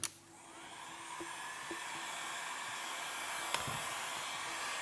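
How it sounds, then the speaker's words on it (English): A heat gun on its high setting blows a steady, loud rushing whoosh with no break, used to warm a side number plate graphic for a 2017 Honda CRF450. A few faint clicks are heard. "I got my heat gun on high setting."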